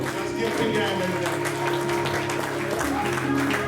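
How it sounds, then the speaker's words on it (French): A worshipping congregation claps their hands steadily through a dense wash of music, singing and voices, with the clapping continuous and fairly close for the whole stretch. "Clap your hands."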